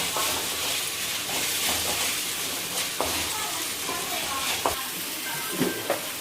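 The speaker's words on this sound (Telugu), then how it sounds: "అందులో టమాటా కూడా ఫ్రై అయిపోతుంది." Tomato frying in ginger-garlic paste for a dry fish and drumstick curry, a steady close sizzle with occasional stirring scrapes and clinks, no voices.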